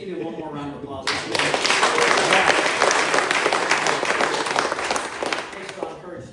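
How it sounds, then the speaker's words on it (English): A church congregation in its new building breaks into full, steady applause for Larry, many hands clapping together loudly and continuously for several seconds after a quieter start. "Let's give you one more round of applause."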